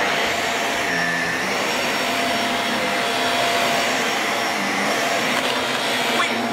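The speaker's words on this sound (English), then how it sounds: "I can't believe I have to vacuum the whole house." A vacuum cleaner runs in a house, a loud steady whine with a constant motor drone that holds at an even level throughout.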